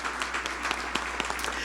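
A crowd at a United Way campaign kick-off event applauds steadily and moderately for a short stretch, with dense, even clapping and no voices over it.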